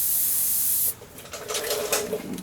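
An airbrush sprays paint onto riveted sheet metal in a loud, close, steady hiss for almost a second, then cuts to a softer, uneven airy spray.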